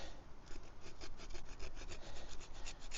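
Bark being scraped from a wet hemlock branch, a steady run of rough, rasping strokes repeating at a brisk rhythm, close and fairly loud, with no voices.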